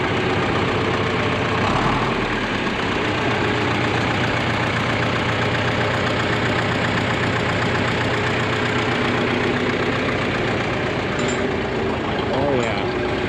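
A John Deere 3020 diesel tractor engine runs steadily and loudly up close, a continuous low rumble with a knocking throb that holds through the whole stretch, heard at an auction.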